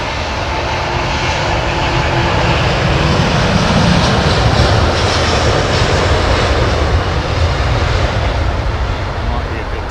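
An Avianca airliner circles overhead at Heathrow Airport, its engines making a loud, continuous roar that swells slightly, with a voice speaking over it.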